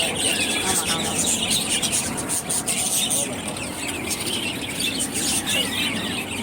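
Dense, constant squawking and chattering of many parrots, loud and busy, with people talking faintly in the background.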